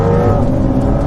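Engine roar from a C8 Corvette and a 992 Porsche 911 Carrera S accelerating hard side by side in a roll race, a loud, steady, dense drone heard from inside one of the cars with no talking.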